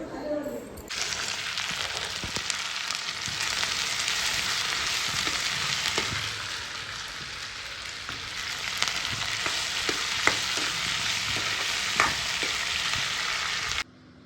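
Vegetables sizzle and fry in a pan in a home kitchen with a steady, hissing crackle, punctuated by occasional clinks and scrapes of stirring, no speech heard.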